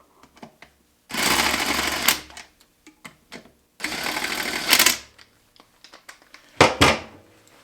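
An impact gun runs bolts into an AWD transmission in two sustained bursts, then a short third one, with scattered clicks and metallic taps from the tools in between.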